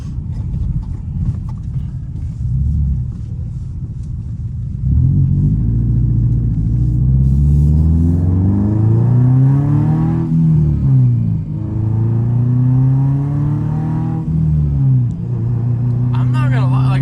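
A car engine accelerates while driving, its loud steady rumble rising and falling in pitch through several long, smooth pulls heard from inside the moving vehicle.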